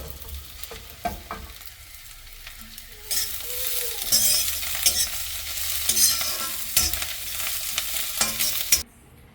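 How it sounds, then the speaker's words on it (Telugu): Tamarind fries briefly in a hot pan while cucumber chutney is made, with light sizzling, a few utensil clinks and stirring scrapes. A louder, hissing fry swells midway and cuts off abruptly at the end. "లాస్ట్కి దించే ఒక 1 minute ముందు చింతపండు వేస్తే ఆ వేడికి కొంచెం ఫ్రై అవుతుంది"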